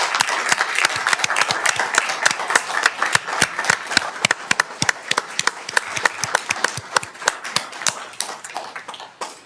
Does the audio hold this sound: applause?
yes